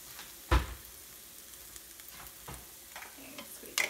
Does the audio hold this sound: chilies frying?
yes